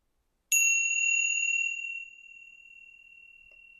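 One strike of a meditation bell in a still, silent space during a guided session, a crisp bright ding followed by a sustained ringing tone that gradually fades away.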